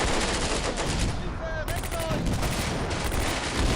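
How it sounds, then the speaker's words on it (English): Dense battle noise from the Combat Mission: Beyond Overlord war game in a fight at Carentan: machine gun bursts and mortar fire pile into a continuous loud roar, with a few whistling tones near the middle and no talk. "Mortar, machine gun, maybe a rifle grenade or two. Yeah, a lot of fire, a lot of just intense battle going on."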